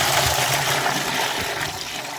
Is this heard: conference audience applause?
no